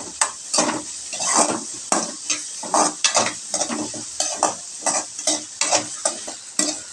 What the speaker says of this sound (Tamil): வெங்காயத்தை நல்லா நம்ம வதக்கி விட்டுக்கலாம்.